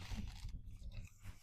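Crunchy food being chewed close to the microphone, a few quiet crunching bites in quick succession followed by softer mouth sounds, with no talking.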